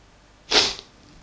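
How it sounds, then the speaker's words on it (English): One short, forceful human sneeze, close and loud, bursting out of a quiet room and fading quickly. "Sorry, I'm sneezing again."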